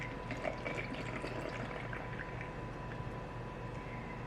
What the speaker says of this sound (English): Take my funnel, fill this with water.